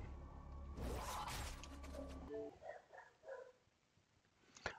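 A pet dog barking and yipping in a room during a Killer Instinct session on Xbox One X, a few sharp barks amid some rustling and a burst of noise, fairly faint.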